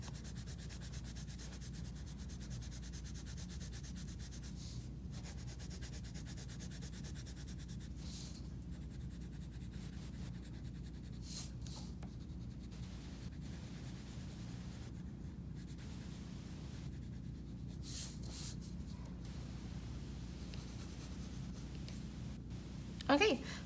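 A crayon rubs smoothly and lightly across paper while filling in a drawn space, giving a steady soft scratchy texture close up that runs throughout with only brief pauses.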